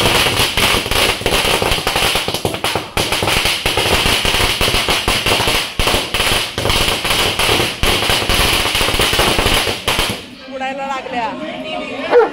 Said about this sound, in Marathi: इथे फटाके लावणार आहेत